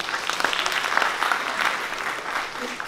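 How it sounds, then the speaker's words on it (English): An audience at an architecture literature event applauds Atul, a steady, dense patter of clapping hands that holds for a few seconds before beginning to fade. "Great applause for Atul"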